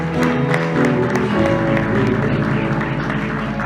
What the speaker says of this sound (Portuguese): Uma salva de palmas ao seu Senhor